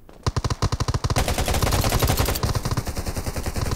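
Rapid automatic gunfire in the survival shooter game Undawn, a quick string of sharp separate shots that runs into a dense sustained burst, loud and close with no talking.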